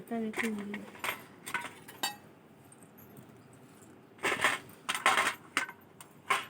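Ice cubes drop into a glass of grape juice, making sharp clinks in quick bursts near the start and again in a cluster later, with voices talking nearby.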